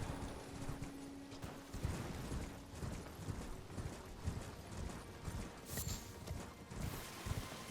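In Elden Ring, a summoned horse's hooves clip-clop in a steady trotting rhythm, fairly close and quiet, with faint mechanical game sounds beneath.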